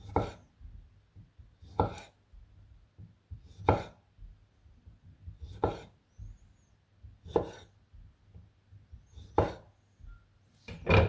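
A knife chops tomatoes on a wooden board in sharp, widely spaced strikes, about six distinct chops spaced roughly two seconds apart, close and clear with quiet pauses between.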